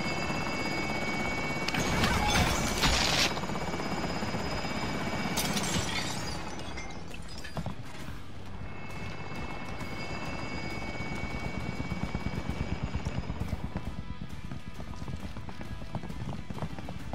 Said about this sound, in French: Hélico en position,